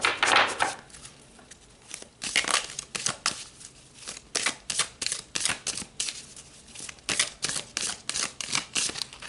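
Tarot cards being drawn and handled from a deck during a spiritual reading: a steady run of crisp, close-up card snaps, flicks and shuffling rustles in uneven bursts, with no voice.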